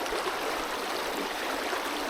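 The River Spey rushes past in a steady, full broadband wash of flowing water, constant and fairly loud, with no voices over it.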